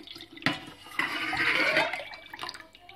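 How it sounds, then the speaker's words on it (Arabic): Half a liter of milk pours into a pot with a close, gurgling liquid splash that swells for about a second and then tapers off, followed by faint handling noises. "غادي ناخد هنا نصف لتر حليب، وغادي نضيفو هنايا"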